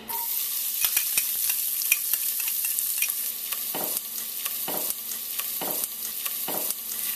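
About half an onion sautéing in a tablespoon or two of oil in a pan, a steady close sizzle with crisp crackles and a few rhythmic scraping stirs repeating roughly every second; no voices.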